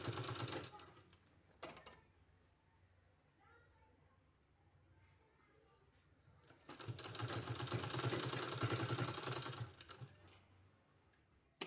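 Sewing machine stitching bias-cut piping strip onto a garment neckline, a steady mechanical whirr that runs loud for a few seconds in the middle, with shorter bursts before it and quieter handling sounds between.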